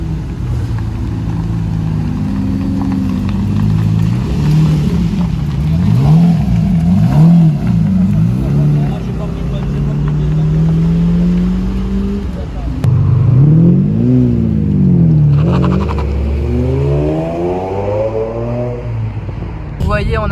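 A Lamborghini Murcielago engine revs repeatedly at a circuit, its pitch rising and falling in surges under continuous close talk, with a sharper climbing rev near the end.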